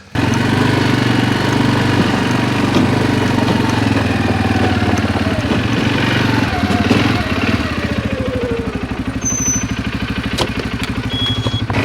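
A tractor engine idles while warming up, a loud close chugging rumble running evenly for the whole stretch, its rhythm turning a little more pulsed toward the end.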